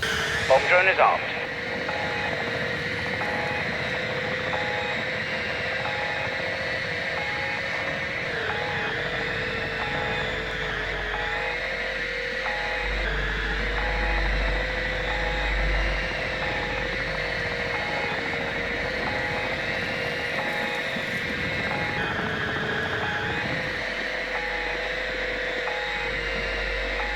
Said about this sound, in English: Bomb drone deployed!